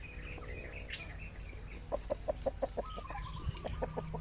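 Egg-laying hens cluck in a quick series of short, sharp calls, with softer clucks and rustling around them at moderate distance.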